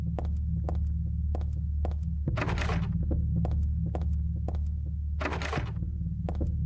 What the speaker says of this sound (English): I don't know how to feel about the heartbeat sounds.